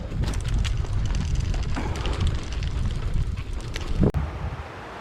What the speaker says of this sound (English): It's turned out a bit windy, unfortunately.